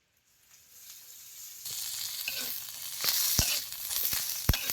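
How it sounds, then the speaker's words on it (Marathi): Green chillies sizzling as they fry in hot oil in a home kitchen, the hiss starting softly and growing louder, with sharp pops and spits breaking through the steady crackle. "मिरच्या तेल घातलं की नाही मिरच्या चटक्यात बसतात"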